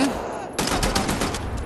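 Rapid gunfire bursts with rattling recoil from weapons in the shooter game Wolfenstein: The New Order, a quiet lull then a loud dense volley of close shots.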